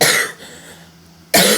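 A person with a cold coughs loudly twice, once at the start and again at the end, with a quiet room hum in between and no talking.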